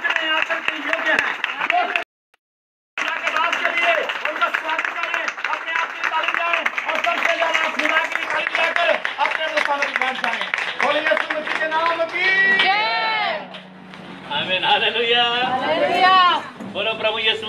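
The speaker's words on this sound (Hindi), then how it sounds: "एक बार खुदा के दास के लिए जोर से ताली बजाएं" A congregation at Bethel Prayer House in Ludhiana, gathered outdoors on the street, claps loudly and rapidly in sustained applause, with a short break midway and voices and cheers rising above the clapping toward the end.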